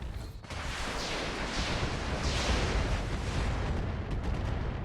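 Mech weapons firing in the RogueTech BattleTech mod, a heavy rumbling volley of shots and booming impacts, loud and continuous throughout, with no talking.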